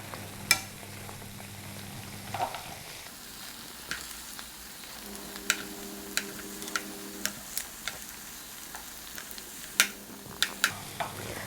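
Food frying in hot oil after being turned over gives a steady, close sizzle with scattered sharp crackles and pops throughout.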